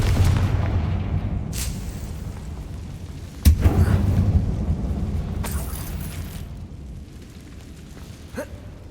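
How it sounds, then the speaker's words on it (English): A Confringo fire spell from Hogwarts Legacy bursts with one sharp explosive boom, then a rumbling tail over a steady low game-ambience bed, with a faint later crack near the end. "Confringo!"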